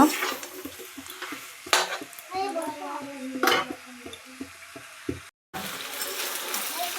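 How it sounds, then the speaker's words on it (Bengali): Young jackfruit and potato being stirred in a pan: scattered scrapes and clinks of a utensil against metal over a faint sizzle, with brief pauses and a short silent gap. "আমি একটু নাড়াচাড়া করব"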